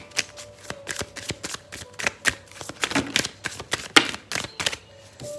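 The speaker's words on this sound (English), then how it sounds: "I'll shuffle again, okay?" A deck of oracle cards is shuffled by hand in a string of quick, crisp riffling clicks and slaps. Near and fairly loud, in uneven bursts, with no voices.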